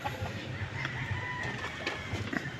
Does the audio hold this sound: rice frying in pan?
no